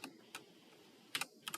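Quiet computer keyboard typing during a command-line session, a few sparse clicks followed by short clustered bursts of keystrokes, close and faint.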